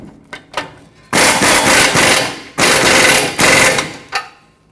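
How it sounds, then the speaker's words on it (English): A 27mm socket tightening the lower ball joint nut on a 2003-2012 Chevrolet Colorado, a couple of short clicks and then two long loud whirring impact-tool bursts, close by. "Tighten this up with that 27mm socket"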